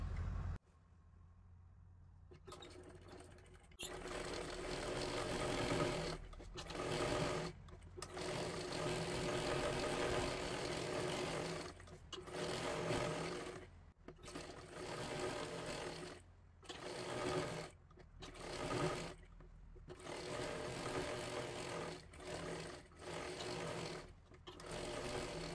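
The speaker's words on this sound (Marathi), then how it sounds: "पाठीमागच्या बाजूला सुद्धा दोन्ही सुद्धा बाह्यांना आपल्याला शिलाई करून घ्यायची आहे" A sewing machine stitches blouse sleeves, whirring steadily in long runs that pause briefly several times, close and fairly loud throughout.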